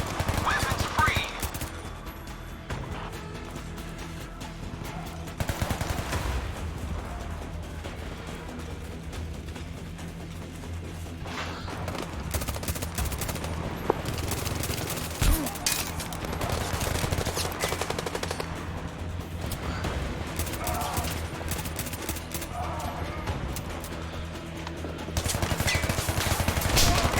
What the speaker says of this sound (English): Firefight ahead of us.